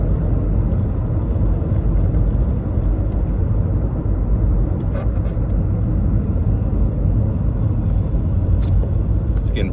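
Steady, loud road rumble and tire drone from inside a car driving through rush hour traffic, a continuous even whir for the whole stretch with no talk.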